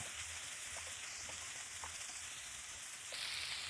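Steady hissing sizzle of chicken pieces frying in a hot pan, continuous and close, with a few small pops and crackles.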